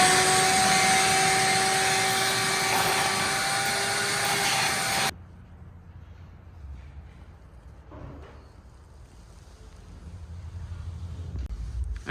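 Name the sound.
vacuum cleaner with small nozzle attachment cleaning engine valley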